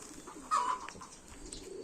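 A pigeon gives a single soft, low coo at moderate distance. Faint background noise surrounds it and no voices are present.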